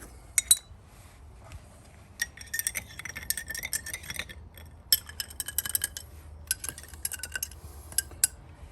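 Ice clinks and rattles against a glass as a Manhattan cocktail with orange bitters is stirred, producing sparse bright clinks at first, then clustered bursts of tinkling, close and fairly quiet.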